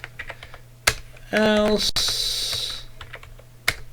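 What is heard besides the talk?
typing on a computer keyboard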